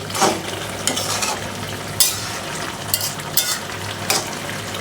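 Greens stirred and flipped in a frying pan over a constant hiss, with repeated spatula scrapes and clinks against the pan at irregular intervals, close and fairly loud, no speech.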